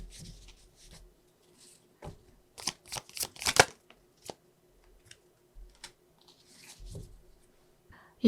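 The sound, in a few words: shuffling and drawing tarot cards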